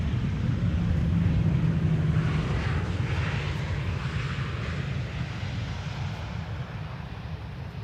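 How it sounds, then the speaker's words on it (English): Boeing 747 jet roaring steadily on its departure from runway 18 left, a loud sustained engine rumble that gradually fades, with no voices. "Departure of a 7478 from runway 18 left"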